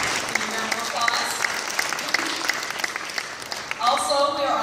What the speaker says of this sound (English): You can all give a round of applause.